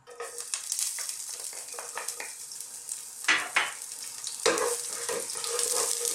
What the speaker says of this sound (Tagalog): Igigisay lang po natin yung bawang ng mga ilang segundo